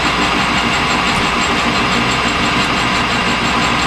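Machine spinning a deburring arbor at about 600 RPM, a loud, dense, steady mechanical drone and whir with no pauses and no talk.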